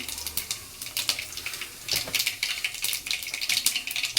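Mustard and cumin seeds crackle in hot oil in a pan, a dense run of sharp pops and spits that comes in bursts and is close and clear with no voices.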